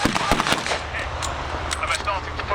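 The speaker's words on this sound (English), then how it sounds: "As the squad leader gets closer, he lets fire." Sharp bursts of gunfire crack out in an outdoor World War Two re-enactment battle, a few shots ringing over a noisy field while voices carry in the background.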